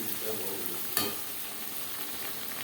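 Marinated chicken being stirred with onion and tomato in a hot pan gives a soft, steady sizzle, with one sharp scrape of the spoon partway through.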